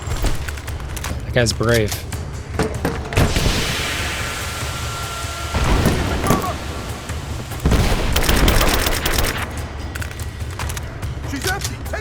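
Gunfire in the video game Rise of the Tomb Raider, with dense bursts and volleys of shots running through most of the stretch over a loud battle din, while voices shout and talk throughout.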